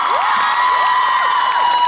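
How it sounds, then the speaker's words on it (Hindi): An audience at a women's empowerment motivational speech cheers and whoops, with rising, whistle-like cries over a steady crowd roar. The sound is close and continuous for about two seconds. "अपने लिए एक बार जोर से तालियां बजाओ"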